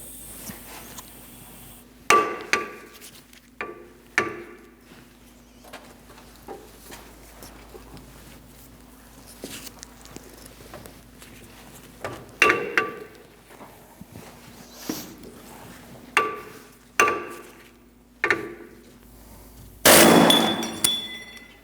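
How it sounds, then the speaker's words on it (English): A puller working a wheel bearing off the front hub of a 2008-2014 Mercedes-Benz C300, heard as a series of sharp metallic clanks and clicks spaced through the quiet, ending in a louder burst of metal noise, with no voice. "we can get a puller on there, and now we're going to pull it off the rest of the way"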